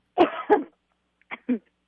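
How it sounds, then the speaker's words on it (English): Two harsh coughs close together, a brief pause, then two shorter, softer coughs, close and otherwise silent. "Now, breathe in, and then cough, feeling it."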